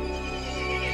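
A horse in the Resident Evil Village video game gives a loud, sustained neigh, close and harsh, running without pause for a full second.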